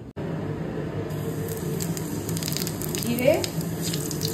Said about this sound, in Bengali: আর ফোড়নে আমি দেব শুকনো লঙ্কা আর জিরে